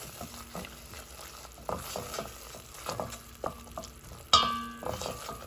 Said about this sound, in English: So that means it's cooking in the oil, coconut oil.